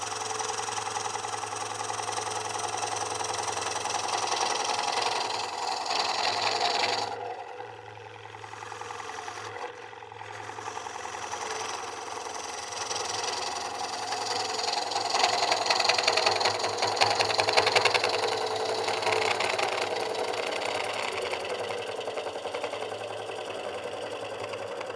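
Oneway Easy Core coring tool cutting a wooden bowl blank on a lathe, a steady droning, buzzing cut running throughout with two brief pauses, loud and close, no talk.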